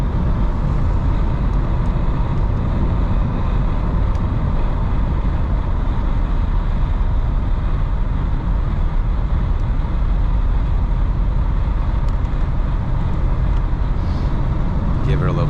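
Wind noise and a steady road roar fill the cabin of a moving 1979 Ford Thunderbird, loud and unbroken throughout.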